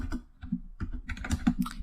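A computer keyboard clicks out a short sudo command in a quick burst of keystrokes, close and clear with a brief uneven rhythm and no talking.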